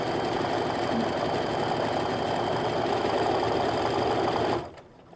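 A sewing machine runs at a fast, even pace, close and loud, as it stitches a quilt strip. The whirring stops abruptly near the end, leaving quiet.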